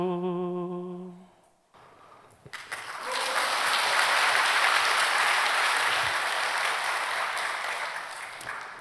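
A church congregation claps after a slow song at a Sunday service. A sung tone fades out first, then steady, dense applause from many hands rises and holds loud to the end.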